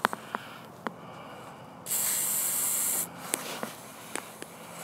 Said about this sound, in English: you see me just spray that on there